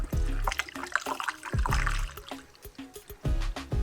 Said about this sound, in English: The only thing left to do now is fill the tank with water and use it.